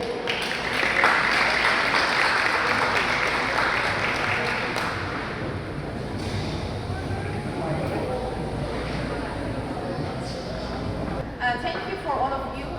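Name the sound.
applause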